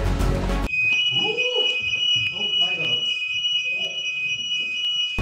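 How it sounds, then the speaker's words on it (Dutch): A home burglar alarm, set off remotely from a phone, sounds a steady shrill high-pitched tone that holds throughout, loud and continuous, while people talk and react excitedly beneath it. "Ik zet gewoon het alarm erop in heel het huis."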